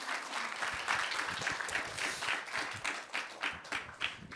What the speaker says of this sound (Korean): 우리 두 목사님과 선교사님 수고하셨고 앞으로 수고해 주시라고 우리 크게 박수하겠습니다